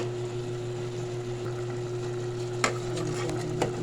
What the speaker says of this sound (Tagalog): Gisa-gisa lang natin ulit.